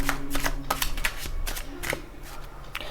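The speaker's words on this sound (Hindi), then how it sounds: "अब मैं आपको as a guidance card निकालूंगी, 3 cards for guidance." Tarot guidance cards are shuffled and drawn by hand, giving a close run of quick papery riffles and soft slaps in an uneven rhythm, with no talking.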